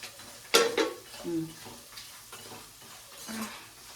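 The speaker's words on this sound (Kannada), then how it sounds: "ಎಣ್ಣೆ ಸಿಡಿತದೆ ಅಂತ. ಹಂಗು ಕೊಬ್ಬರಿ ಎಲ್ಲ ಸಿಡಿ ಹೋಯ್ತು." Grated coconut frying in hot oil in a home kitchen spits and crackles in sharp bursts, with one loud splutter followed by quieter pops and faint stirring.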